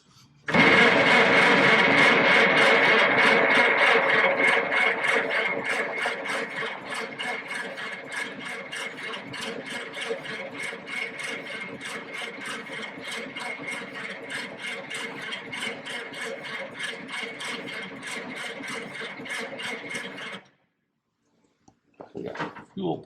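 An engine runs after the key is turned, loud at first, then settling into a steady, even drone for about twenty seconds before it cuts off abruptly.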